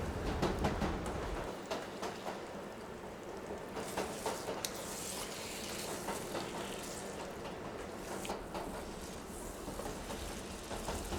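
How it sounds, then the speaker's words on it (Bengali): Mutton curry with fried potato pieces stirred and fried on high flame, a continuous close sizzle like steady rain, with irregular scraping and clattering strokes from stirring throughout, no talk. "তারপর সব কিছুকে নাড়তে নাড়তে কষিয়ে নেব মিনিট 10 হাই ফ্লেমে"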